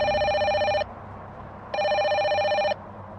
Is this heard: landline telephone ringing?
yes